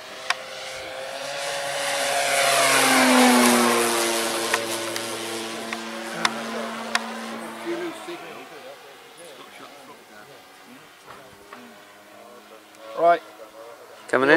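An RC model L39 jet plane from an RBC kit passes overhead and comes in to land with flaps down, a rising then falling whine that is loudest early and fades, while people talk nearby.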